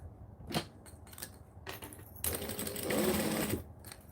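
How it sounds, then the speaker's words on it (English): A sewing machine stitching fabric, short bursts of whirring needle motion followed by a longer steady run near the end, moderately close and unaccompanied by talk. "Sometimes it's fun to do some quick sewing"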